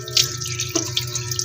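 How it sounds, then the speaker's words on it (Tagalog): Water runs from a kitchen tap as a thin, weak stream while pork chop and bitter melon are prepared for cooking, a steady close trickle with a few splashy bursts and no talking. "Mahina lang yung tubig."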